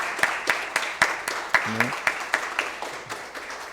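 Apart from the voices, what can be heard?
audience applause in a municipal council session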